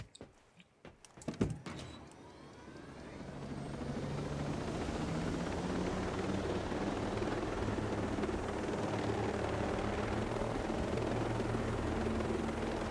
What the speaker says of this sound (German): So, einmal Heli geklaut.